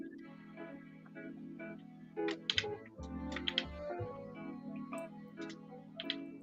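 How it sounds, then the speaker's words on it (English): Keystrokes on an Apple computer keyboard, a light uneven patter of clicks with a few sharper taps, steady over a low background hum. "Hannibal's having some issues with his Apple keyboard."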